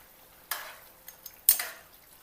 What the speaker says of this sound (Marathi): आता याच्यामध्ये शिजवलेलं मटण टाकायचं आणि छान मिक्स करायचं याला।